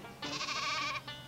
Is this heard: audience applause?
no